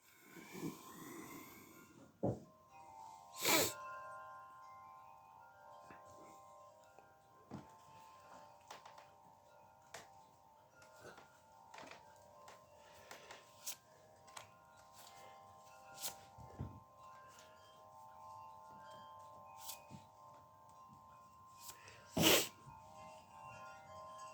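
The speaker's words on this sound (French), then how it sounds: "On a un vent qui n'arrête pas de tournoyer, ça fait chanter le carillon à l'extérieur, ça n'arrête pas." An outdoor wind chime, set ringing by constantly swirling wind, gives faint, sustained, overlapping tones throughout, with scattered soft clicks and knocks.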